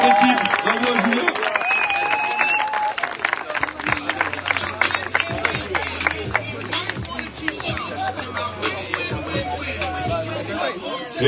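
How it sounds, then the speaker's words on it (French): Spectators at a 3x3 basketball junior league finals cheer and applaud a player and her team's title, with lively clapping, crowd noise and chatter, and music beneath. "on peut applaudir Julia pour sa journée parfaite et le titre pour son équipe"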